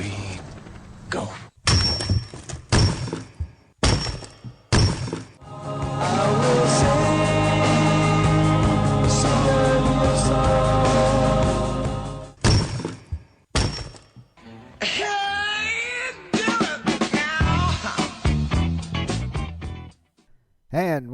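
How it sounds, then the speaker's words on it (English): Rock-cracking sound effect: repeated heavy thunks and sharp breaking cracks, then a long sustained roaring, grinding stretch with tonal overtones, then more scattered cracks and warbling bursts. Loud and close, with no voices. "that's the sound of rock cracking"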